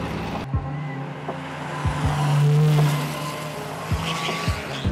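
Race car on a qualifying run at the Pikes Peak Hill Climb, a steady engine drone broken by several sharp passing bursts and a brief louder swell midway, with no voices.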